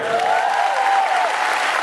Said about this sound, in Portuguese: Uma salva de palmas pro Guilherme.